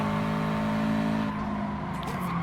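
Loud, sustained engine drone of a Subaru Gr.4 race car in Gran Turismo Sport, holding high revs then shifting pitch slightly midway, with faint tire noise and no talk.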